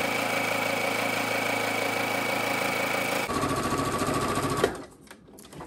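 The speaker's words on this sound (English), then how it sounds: "Pick up my foot, flip it around, and then sew down my other side." Sewing machine stitching a fabric seam for half-square quilt triangles: a loud, steady, close mechanical whir that shifts tone partway through, then stops abruptly near the end, leaving quieter background.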